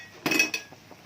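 A utensil clinks and scrapes against a pan while instant noodles with tomato and chicken are stirred, giving a few quick metallic taps close by.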